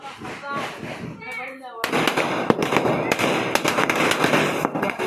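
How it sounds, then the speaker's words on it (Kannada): A string of firecrackers exploding at a home Diwali celebration, a rapid, dense volley of loud sharp bangs and pops close by, preceded by a few seconds of voices talking. "ಇವಾಗ ನಾನು ಪಟಾಕಿ ಸರ ಹಾಕ್ತೀನಿ"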